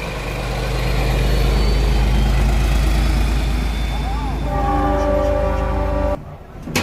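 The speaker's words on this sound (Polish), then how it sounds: "Teraz odjazd SU46029 z pociągiem specjalnym." PKP SU46 diesel locomotive pulling away with a special train at Żagań, a loud, steady low engine drone building and holding, then tonal mechanical whine layers near the end before a sudden drop.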